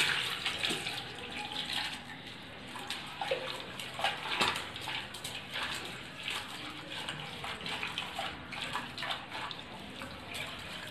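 Water splashes and runs continuously as freshly picked leaves are swished and rinsed in it, fairly quiet, with occasional small sloshes and no talking.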